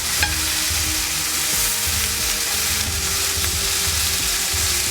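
Chicken fries in a browning pot with a loud, dense, continuous sizzle close by, a faint clink or two mixed in and no talking.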